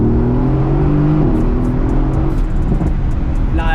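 Stock twin-turbo Mercedes-AMG car accelerating hard, a loud, close engine drone with rising whine that holds steady throughout.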